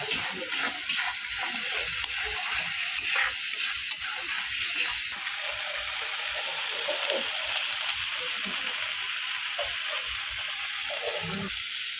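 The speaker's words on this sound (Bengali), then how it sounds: "এখন মশলার সঙ্গে আমড়াটাকে ভাজতে হবে।" Hog plums frying with spices in a pan, giving a bright, steady sizzle that is strongest at first and then settles into a quieter crackle.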